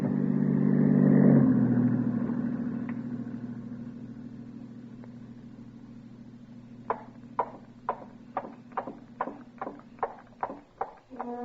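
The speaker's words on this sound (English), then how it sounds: "It is a patrol car." Patrol car with a spotlight approaching, an engine hum swelling and fading, followed by a run of sharp regular clopping beats like hooves, faint and without talk.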